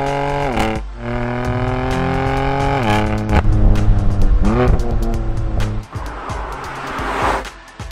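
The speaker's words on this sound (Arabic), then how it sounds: "انا اليوم عم بسوق واحدة من اكثر سيارات ام المفضلة عندي، اللي هي البي ام دبليو ام 3" A BMW M3 revs hard with rising engine sweeps and gear changes, its tires squealing as it accelerates and slides near the microphone, loud and without speech.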